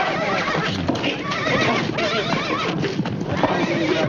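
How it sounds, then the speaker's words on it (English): A horse neighs loudly and repeatedly, its whinnies close and agitated over a steady clatter of hooves. "Your horse ran away again, Mrs. McGee."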